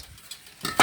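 Washed rice stirred into seafood paella in a pan, a near-silent moment then a short burst of close sizzling and spoon scraping at the end.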